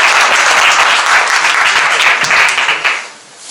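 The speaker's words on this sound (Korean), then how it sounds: "박수 한번 주세요" Loud, dense applause from a church student group's graduation audience, a continuous wash of clapping that fades out near the end.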